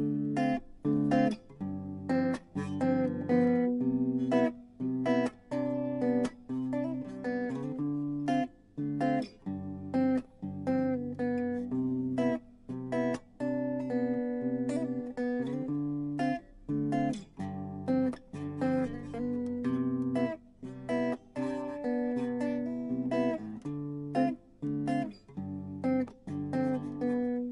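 A Plato GT10 Telecaster-style electric guitar plays clean single notes and chords with the neck and bridge pickups selected together, a steady mid-loud stream of plucked tones alone, with no voice.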